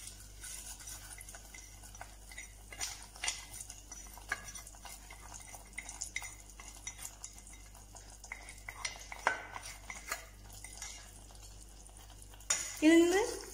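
A fried mustard-seed tempering is tipped into a pot of Kerala dal curry and stirred, with scattered utensil scrapes and clinks over a faint sizzle, then a louder burst of sizzling and stirring near the end.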